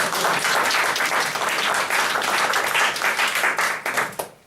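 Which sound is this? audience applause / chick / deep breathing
audience applause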